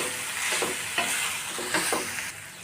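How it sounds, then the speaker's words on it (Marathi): Boiled noodles being stir-fried for Hakka noodles, a continuous close sizzle with rhythmic scraping tosses of the spatula every half second or so, alone without speech. "नूडल्स ॲड केल्यानंतर पुन्हा आपण हे सर्व व्यवस्थित मिक्स करून घेऊया"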